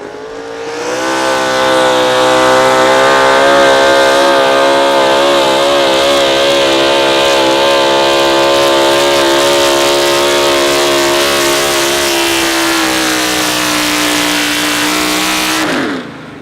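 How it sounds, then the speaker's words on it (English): A Ford pickup in the pro stock four-wheel-drive class of an outlaw truck pull at Wisner, Nebraska, roars loudly and steadily at high revs for about fifteen seconds, holding a sustained engine note before cutting off abruptly. "that Ford pickup as he got into the throttle pretty quick and didn't ease out there on the clutch"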